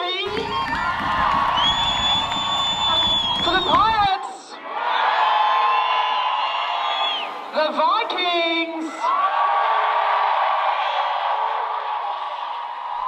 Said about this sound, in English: The crowd is given voice to determine the winner